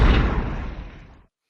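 A single loud boom that rumbles and decays over about a second before cutting to silence, like an explosion effect.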